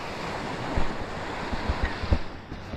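Ocean surf rolls onto a beach in steady broadband wash, with wind buffeting the microphone and a few louder wave surges near the middle and end; no talking.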